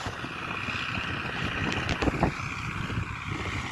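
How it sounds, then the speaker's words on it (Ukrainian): Wind blows steadily, buffeting close to the microphone with a few sharper gusts midway. "Вітер дує, так що."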